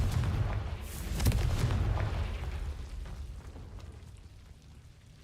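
A Confringo fire spell bursts in Hogwarts Legacy with a deep rumbling boom and crackling debris, the heavy blast slowly fading over several seconds.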